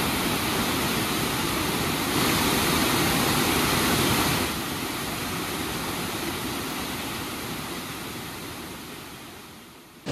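Powerful rushing water of the Jajce waterfall in Bosnia, a steady, dense roar of falling water that stays loud and continuous throughout and eases off slightly toward the end.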